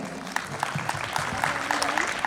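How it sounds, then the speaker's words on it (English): Indoor audience applause rings out at a Christmas celebration after a choir performance. Steady clapping runs the whole time, with a few louder claps and faint crowd murmur. "A big round of applause for a choir group."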